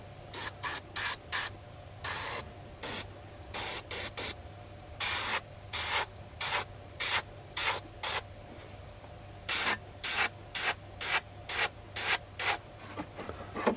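An airbrush sprays paint onto a flocked mallard drake decoy in many short hissing bursts, evenly repeated with brief gaps over a faint constant compressor hum, close and quiet, with no talk.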